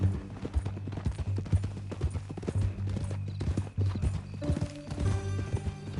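A horse's hooves clip-clop at a steady walking pace in Red Dead Redemption 2, with rhythmic thuds over a low rumbling bed and a faint whinny-like tone late on. No speech is heard.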